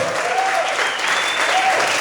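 A church congregation applauding together, loud, dense and steady clapping sustained throughout, with faint whistles or cheers rising above it.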